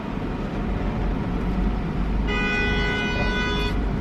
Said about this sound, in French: Qui est en train de klaxonner, c'est qui là?